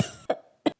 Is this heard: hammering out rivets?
no